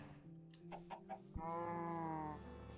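Minecraft chickens clucking in a German survival let's play, a few short separate clucks followed by a steady tonal game sound running underneath, close and moderately loud.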